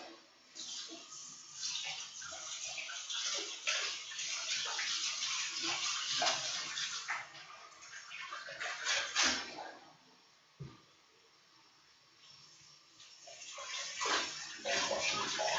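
Tap water runs and splashes unevenly into a sink while greens are rinsed, the flow shifting as hands move through it, briefly dropping off before resuming.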